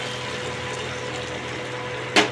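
Water is poured into a pan of ground curry masala fried with garlic paste, a steady close splashing fill that swells briefly into a louder gush near the end.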